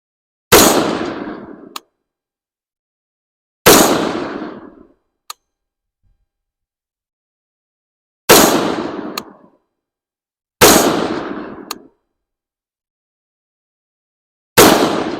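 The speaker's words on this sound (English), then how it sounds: "I'm going to shoot it at the upper left. Got 5 rounds." Five loud, sharp reports from a Palmetto State Armory PA15 rifle firing .223 Remington rounds at a 50-yard target. The shots come at irregular intervals several seconds apart, each with a decaying ring, and faint clicks follow.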